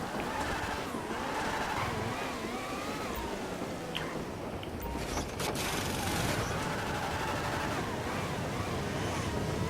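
Video game car engine roaring continuously in GTA V as the car oversteers and skids through a race, with dense mechanical noise and sporadic sharp bursts, loud and close throughout.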